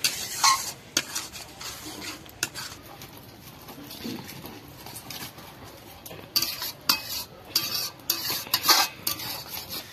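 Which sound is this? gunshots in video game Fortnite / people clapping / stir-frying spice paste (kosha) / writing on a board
stir-frying spice paste (kosha)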